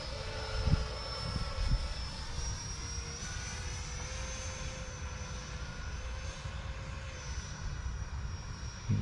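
An E-flite F-16 Thunderbird 70 mm electric ducted-fan RC jet flies overhead at a distance. Its steady whine shifts in pitch slightly as the throttle eases down and back up, with wind noise and occasional low thumps underneath.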